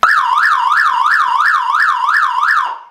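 Emergency vehicle siren in yelp mode, triggered from the siren switch panel, rapid rising-and-falling electronic tone cycling steadily about three times a second, loud and close, then cutting off at the end.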